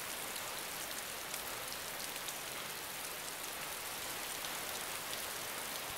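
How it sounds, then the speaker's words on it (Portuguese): Rain in the survival video game DayZ, a dense, even hiss of falling rain that holds steady and fairly loud throughout, with no talk over it. "Engraçado que tá chovendo."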